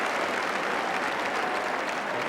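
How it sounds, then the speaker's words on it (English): A football stadium crowd at an Arsenal versus Liverpool match applauds a player, producing a continuous, loud wash of clapping that holds evenly throughout. "The applause is for Stuart Robson."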